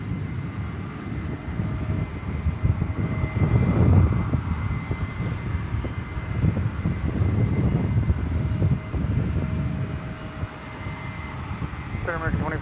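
A Boeing 777 airliner bound for London passes at DFW Airport at night, heard as a steady, broad jet rumble that swells and eases over about twelve seconds, with faint voices at times.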